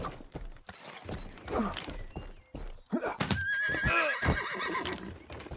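Video game horse in Rustler, with clip-clopping hooves and a loud, wavering neigh rising over the hoofbeats, plus scattered clattering thuds and a sharp crash in the game world.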